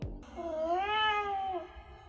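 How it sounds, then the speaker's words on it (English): A domestic cat gives a single drawn-out meow that rises and falls over about a second and a half, close and clear, with no voices. "This is described as various types of meows said to other cats,"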